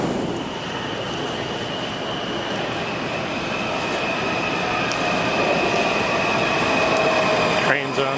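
A train runs along the rails, a steady loud rumble with squealing wheels and a rising whine near the end, heard up close without talk.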